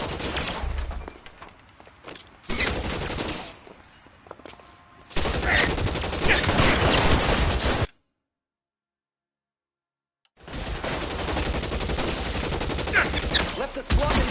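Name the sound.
gunfire in the video game L.A. Noire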